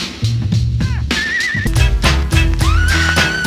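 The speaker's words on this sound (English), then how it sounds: "they've got that like squeal sound" A busy, loud rap track with heavy beats and a high, sliding squeal that wavers and swoops over the mix more than once.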